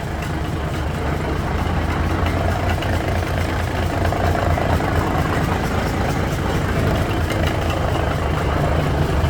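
A Cummins NHC250 diesel idles in an M818 truck with a loud, steady, rumbling drone and even low throb, close by and without talk.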